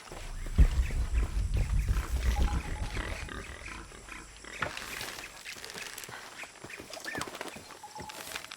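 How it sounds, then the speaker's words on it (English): Pigs in a video game: low grunting and snorting, loudest in the first few seconds, then thinner squeals and snuffles scattered through the rest. "Those are actual pigs, I think."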